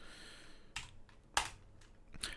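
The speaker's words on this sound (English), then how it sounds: "accept this by typing yes." Keys struck on a computer keyboard to enter yes, a handful of separate sharp clicks with short gaps, close and fairly quiet against a faint room hiss.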